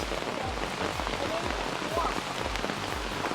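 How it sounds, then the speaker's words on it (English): Heavy rain pours steadily onto a surface at Yana Caves, a dense continuous patter with scattered louder drops, no voices. "Are you enjoying rain? Yes. Wow. Pouring. It's raining, it's pouring"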